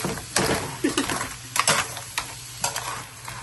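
Garlic butter crab being stirred in a hot pan, with close scraping and clinking strokes in irregular bursts over a steady sizzle of frying.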